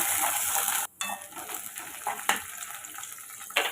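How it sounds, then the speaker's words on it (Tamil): Onion, garlic, chilli, cloves and star anise sautéing in hot oil for a goat trotter, field bean and vegetable curry, giving a steady close sizzle with stirring scrapes and a brief gap near the start. "இப்போ இதை நம்ம வதக்கி விட்டுக்கலாம்"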